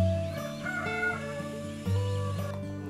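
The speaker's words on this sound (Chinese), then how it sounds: "小黄狗跑着， 还有小鸡小鸭" Village chickens and ducks cluck and call faintly under steady background music, with a few short squawking bursts and no voices.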